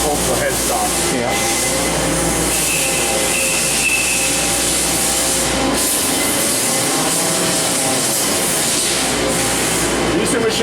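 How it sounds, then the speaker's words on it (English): Gear hobbing machines running on a factory floor at a small machine tool maker, a loud, dense, steady mechanical whir and grinding rumble that fills the whole stretch without pause. "These two machines are virtually identical. They're gear hobbers."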